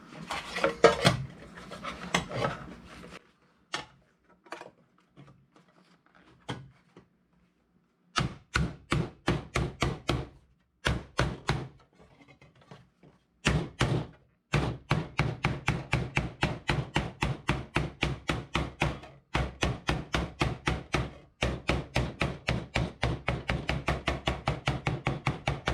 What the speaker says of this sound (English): Use this body hammer.